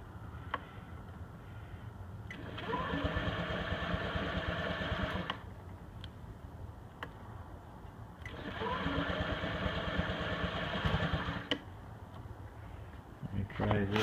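A Honda Ruckus scooter engine runs steadily just after start-up, its first start in four or five months, with the idle swelling louder in two longer stretches and dropping back between them.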